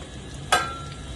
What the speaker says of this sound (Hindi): तो अब मैं इसमें थोड़े थोड़े गोंद डालकर इसको फ्राई करूंगी।